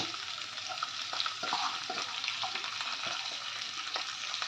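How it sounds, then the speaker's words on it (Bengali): Grated coconut and chickpeas fry in a pan, giving a steady close sizzle with occasional stirring scrapes throughout. "এবার একটু দু তিন মিনিট আমি নারকেল কোড়াটা আর খোলাটা ভাজা ভাজা করে নেব"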